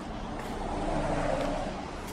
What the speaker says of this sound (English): And traffic as usual,